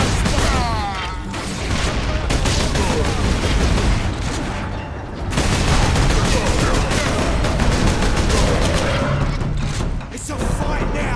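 Dense, continuous gunfire in Warhammer 40k: Space Marine, with rapid bursts, booms and crashes layered together loudly across the whole stretch, with a brief lull around the middle and voices mixed in.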